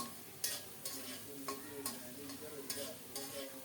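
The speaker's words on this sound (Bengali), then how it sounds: "পেঁয়াজ রসুন সহ মশলাটাকে ভালো করে কষাতে হবে" Spice paste with onion and garlic sautéing for a dried-fish curry, a faint, close sizzle with soft stirring scrapes coming about every half second, with no voices.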